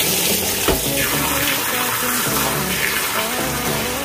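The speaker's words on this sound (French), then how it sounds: "je vais le remplir d'eau chaude encore une fois" Hot water gushes from a tap into a bucket, a loud, continuous rushing splash close by with no pauses.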